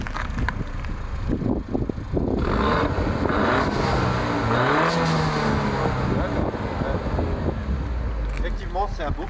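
A Peugeot 308 GTi engine revs up and climbs in pitch, then settles. The sound is fairly loud but muffled, with wind buffeting the microphone and people talking over it.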